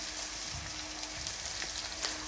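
Chopped tomato and green chilli frying with salt in a pan, a steady close sizzle and crackle that runs throughout with no voices.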